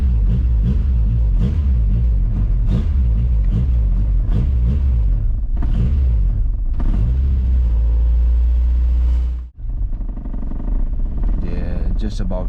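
A car engine with a failing idle air control valve is held at revs, throbbing in a rough, uneven rhythm, then sags and nearly stalls before catching and running again.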